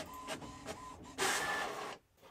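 An HP printer printing a page at home: quiet whirring and short mechanical bursts, then a louder feed pass before it stops, heard close and alone.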